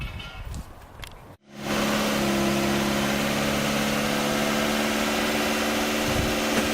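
Engine of a 320,000-mile project car starts up and runs steadily, a droning hum with a strong low tone that holds even and fairly loud after a brief quiet moment, with some rustling beforehand.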